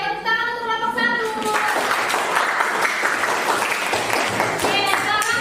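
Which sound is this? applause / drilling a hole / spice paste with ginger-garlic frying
applause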